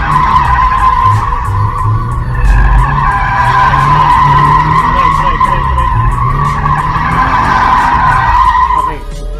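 A Subaru BRZ slides around an R33 drift track, engine roaring loud and close while tyres screech in a long sustained skid that cuts off near the end.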